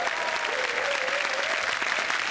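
A studio audience at the Marathi comedy show Chala Hawa Yeu Dya claps for Dr. Amol Kolhe: dense, steady applause from a large crowd, sustained at even loudness throughout.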